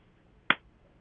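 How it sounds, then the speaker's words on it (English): One quick, sharp hand clap rings out alone against near silence, a single crisp hit that decays fast. "David, just a quick clap, please."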